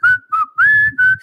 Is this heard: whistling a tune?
yes